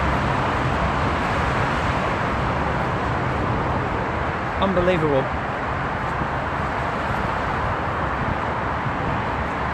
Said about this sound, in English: You can hear the traffic.